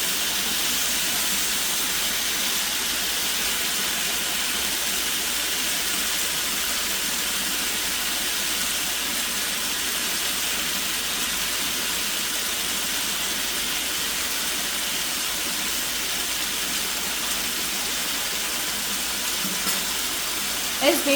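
Chicken caramelizes in a hot pan over high heat, giving a loud, continuous, even hiss of sizzling that holds steady throughout, close to the ear, with a small clatter at the very end.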